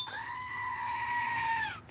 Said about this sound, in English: Screaming goat.